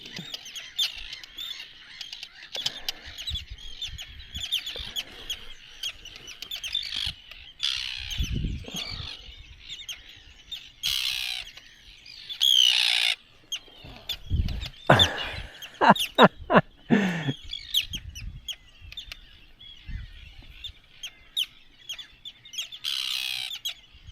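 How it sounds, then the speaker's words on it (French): Arctic terns in the Westfjords of Iceland give scattered sharp, harsh calls and chirps, some close and loud, with fluttering wing noise between them against a quiet outdoor background. "Je retrouve mes oiseaux préférés, les sternes arctiques."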